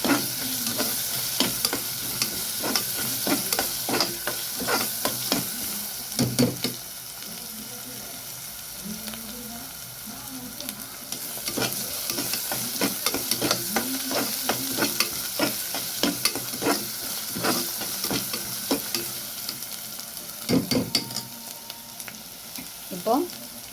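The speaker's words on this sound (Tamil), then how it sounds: "இஞ்சி பூண்டு வதங்கும் போது நல்லா வாசனை வருது" Ginger and garlic sautéing in a pan while cooking mutton, a steady sizzle broken by repeated stirring and scraping strokes that hold at close, moderate loudness throughout.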